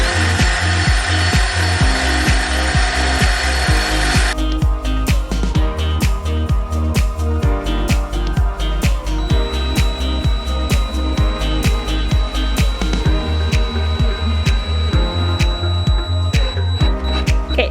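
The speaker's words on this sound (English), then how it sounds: "we are going to pre-drill holes, especially with using like thinner wood" A drill bores pilot holes into thin wood for a DIY Montessori floor bed, giving a steady, close whirring grind with short rhythmic pulses as the bit works through the board, and no talking.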